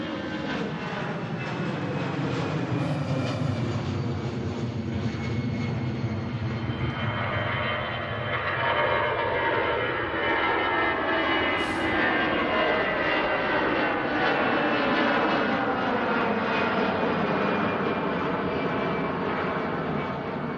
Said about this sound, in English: Nice short hop over to Belfast International for this EasyJet A320.